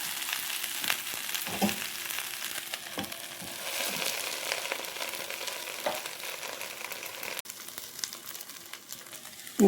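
Green banana stir fry sizzling in a pan while being stirred, Kerala style, close frying hiss broken by repeated scraping and clacking strokes of a spoon, no talk.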